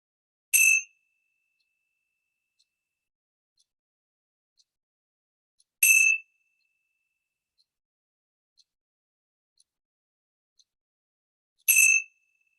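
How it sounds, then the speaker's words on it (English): Three bright metallic bell strikes spaced evenly several seconds apart, each a crisp ring that fades quickly into near silence. "let's begin with the ringing of the bells of hope"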